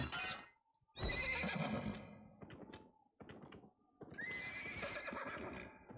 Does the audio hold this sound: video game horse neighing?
yes